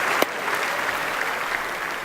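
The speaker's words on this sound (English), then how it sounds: "Let's give a big round of applause for Robert Flores." Audience applauding for Robert Flores at a live E3 2015 show, steady dense clapping throughout the short stretch with a sharper accent near the start.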